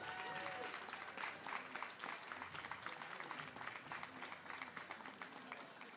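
Faint audience applause for the lifters at a Pro-Am strength competition at the Arnold Sports Festival, with scattered, uneven clapping that carries on under nearby voices talking.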